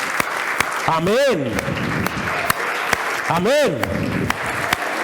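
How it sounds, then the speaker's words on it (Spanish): Applause fills a church as the congregation claps for the King. Sharp clap hits stand out in the steady din, while voices call out and a rising and falling musical or vocal swell sounds twice. "Dele otro fuerte aplauso al Rey, hermano."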